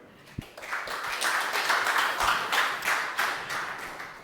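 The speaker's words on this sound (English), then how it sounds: "let's give a round of applause for Cassandra" A conference audience applauds a speaker at a talk on decentralised exchanges and Binance, a single sharp knock followed by a swell of steady, moderately loud clapping that continues evenly throughout.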